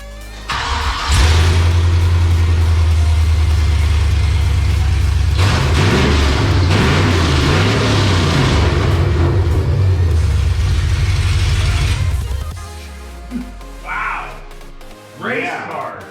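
A Chevrolet Silverado 2500 with a 6.0 engine and long tube headers starts and revs close by, a deep loud rumbling idle swelling into throaty revs, then cutting off as people talk and cheer afterward.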